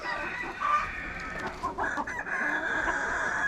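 A sick hen clucking with low croaky calls over a steady noisy background, with a crowing-like cry partway through; fairly close, moderately loud.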